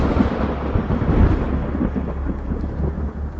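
A very loud, close thunder crash from a nearby lightning strike at an airport, rumbling heavily for several seconds and fading slightly, with rain hissing underneath and no speech.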